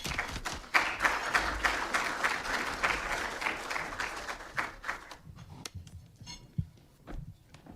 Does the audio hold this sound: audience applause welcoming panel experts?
yes